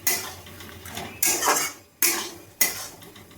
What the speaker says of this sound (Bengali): এবার মাছ দিয়ে ভালো করে নাড়িয়ে নেব।